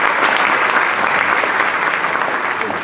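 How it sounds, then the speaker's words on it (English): Steady round of audience applause at a business panel on social media marketing, dense and continuous clapping from a sizable crowd, fairly loud and unbroken throughout. "Give him a round of applause for that."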